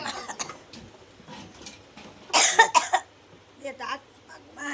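A young girl gives a short cluster of sharp, close coughs before singing. Quieter children's chatter comes before and after.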